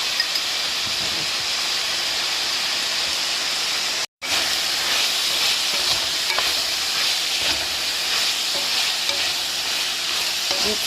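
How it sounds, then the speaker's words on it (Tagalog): White onion with salt sautéing in a frying pan for Filipino ginisang upo, a steady loud sizzle and hiss with occasional stirring scrapes, broken by a brief silent gap near the middle. "Saute the onion."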